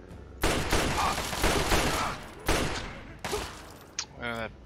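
Pistol fire in Fallout 3 comes in several loud, close bursts of sharp cracks with decaying tails, spaced about a second apart, followed by a short burst of game sound effects.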